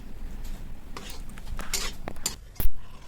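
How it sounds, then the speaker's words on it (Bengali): A spoon or spatula stirring spiced potato filling for aloo bonda in a pan: soft, close scrapes and scattered light clinks, ending with one louder clank of metal on the pan. "এবার নেড়ে চেড়ে এটা নামিয়ে নেব"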